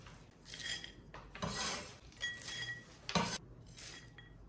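Roasted sesame seeds being stirred into chopped peanuts in a dish for homemade peanut brittle, giving repeated scraping and clinking of a utensil against the bowl in several bursts, fairly quiet and close, with no talking.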